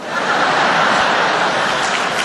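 A comedy club audience applauds a German stand-up comedian's joke, a dense, steady wash of clapping filling the room at full volume for the whole stretch with no talk over it.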